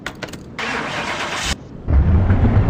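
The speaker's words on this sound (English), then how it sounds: "Let's start this engine up." A 1978 Pontiac Firebird engine cranks over and catches, settling into a loud, steady, deep idle close by with no voices.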